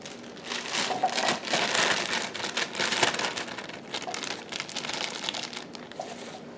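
A bag of baby carrots tipped into a crock pot, a rattling cascade of small carrots tumbling against each other and the pot, with plastic crinkling, fairly close and moderately loud, no talking.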